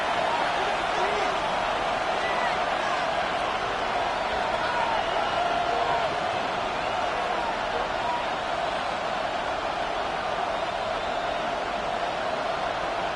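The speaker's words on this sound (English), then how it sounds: "the crowd here at MetLife Stadium in full roar" Stadium crowd at MetLife Stadium in an EA Sports football video game, a continuous, broad roar of massed voices late in a close game, holding steady in level throughout with no clear words.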